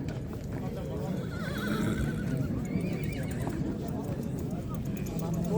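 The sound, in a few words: horse neighing at a livestock market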